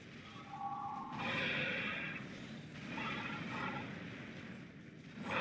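A horse neighs in the Elden Ring video game, two bright whinnies rising over a constant low rumble of game ambience, with no talking.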